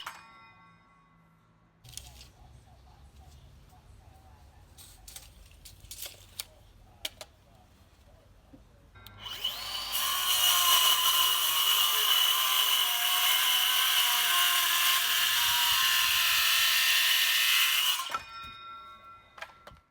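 A cordless circular saw cuts through very hard timber boards for dining table legs, a loud sustained whine of eight seconds that labours through the cut. Quieter handling clatter comes before it.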